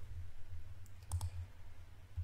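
A computer mouse clicks on a Set Password button in risk management trading software, two or three quick faint clicks close together against a quiet low hum.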